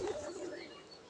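A pigeon coos briefly and softly in a domestic loft where birds are nesting on eggs, a short low call at the start fading into quiet room background.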